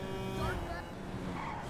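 A car engine revs with a brief tire screech as the vehicle skids in GTA Online, under a steady mechanical hum, with talk faintly in the background.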